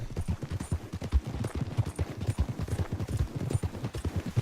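Rapid, steady hoofbeats of a horse galloping at full speed in Red Dead Redemption 2, a dense drumming rhythm with no voices over it.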